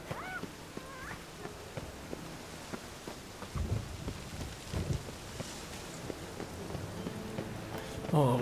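Rain hisses softly in The Witcher 3, and low thunder rumbles in the middle of the clip, all fairly faint.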